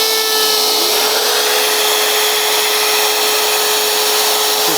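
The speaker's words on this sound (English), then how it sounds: "So on with the router." A router cuts a slot into a wooden shelf board: a loud, steady high-pitched whine with a sustained rough cutting roar, held unbroken and close.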